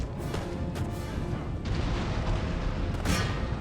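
Cannon fire in the Empire Total War battle, a dense wash of rumbling booms and sharp cracks, with a few distinct blasts standing out over continuous low battlefield noise.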